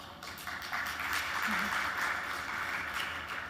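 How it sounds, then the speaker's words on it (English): Applause from an audience filling a room, steady broadband clapping sustained throughout, fairly loud and even, with no clear talk over it. "applause from everyone in the room"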